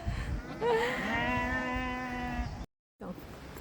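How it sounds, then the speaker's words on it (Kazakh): A lamb or goat kid lets out one long, wavering, nasal bleat close by, followed by a brief quieter cry after a short silence, with outdoor background noise underneath. "Ой, лақты қара, қозыны қара."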